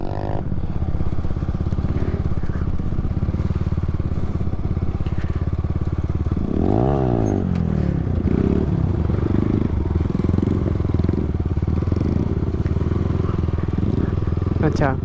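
A motorcycle engine runs continuously nearby at a practice ground, a loud steady drone with some clattering, while people talk over it.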